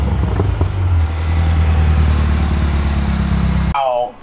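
Audi S4 car engine fitted with a Canon intake and ported blower, arriving close by with a loud, rough, throbbing idle and revving drone that cuts off abruptly, followed by a brief voice.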